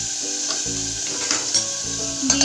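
Carrots and tomato being stirred in sizzling butter for a carrot and tomato baby soup, a steady close sizzle broken by repeated scraping stir strokes, with no talking.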